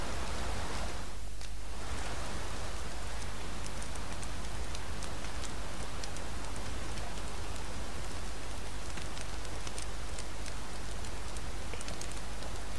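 Steady rain in the video game Dragon's Dogma 2, a dense even hiss of falling drops with faint scattered ticks, continuous and moderately loud throughout with no one talking.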